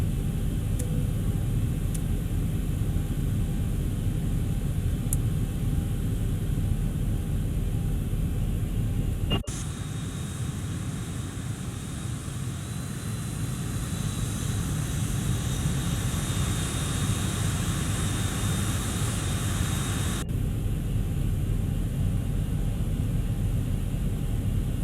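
Boeing 737 jet engines in the X-Plane 11 flight simulator, taking off at Gardermoen in gusty wind: a steady, loud broadband engine roar that shifts and swells partway through, continuous throughout with no talk.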